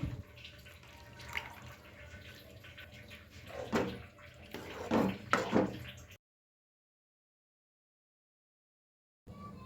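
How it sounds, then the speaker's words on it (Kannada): Water splashes and trickles into a mixer jar in a few short pours while making mutter paneer, with clattering handling noises, then a stretch of near silence. "ಮಿಕ್ಸಿ ಜಾರಿಗೆ ನಾನು ನೀರು ಹಾಕೊಂಡು ಇದನ್ನು ಹಾಕೊಳಕತ್ತೀನಿ"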